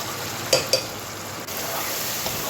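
Noté greens with chili powder stir-fry in a pan, a steady soft sizzle with two sharp scraping stirs close by early on and a lighter clack near the end.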